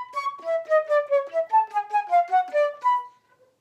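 The Donjon Gigue etude melody is played alone in the upper register on a reedy wind instrument. A lively run of about a dozen detached notes in a bouncing gigue rhythm ends on a short held note.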